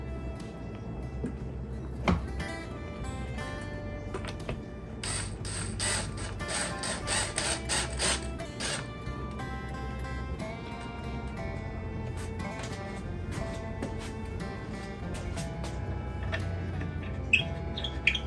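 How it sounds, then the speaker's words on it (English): Screws are driven back into a piece of thrift-store furniture during a makeover, with bursts of power-driver whirring mixed with ratcheting clicks and small mechanical ticks, close by. "And you're just gonna go all the way around, putting back your screws."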